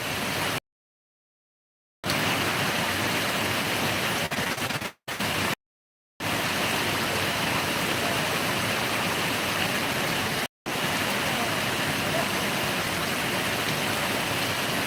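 Heavy rain pours in a dense, loud, unbroken hiss, interrupted only by a few brief moments of total silence.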